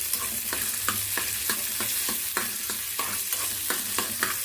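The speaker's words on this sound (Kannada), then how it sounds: "ಕವಳಿಕಾಯಿನ ಅದಕ್ಕೆ ಹಾಕೋಣ ಇವು ಸ್ವಲ್ಪ ಮೆತ್ತಗಾಗೋವರೆಗೂ ಏನಿದೆ ಇನ್ನು ಹುರ್ಕೋಬೇಕಾಗ್ತದೆ ಎಣ್ಣೆ ಒಳಗೆ" Karonda (kavalikai) berries fry in hot oil in a pan, a steady loud sizzle throughout with regular scraping stirs roughly every half second, close up and with no talk.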